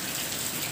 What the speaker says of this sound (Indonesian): hujan turun lebat juga lah.